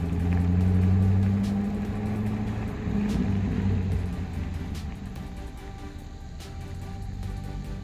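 A sold Corvette's engine rumbles loudly nearby at first, then gradually fades and thins as the car drives away.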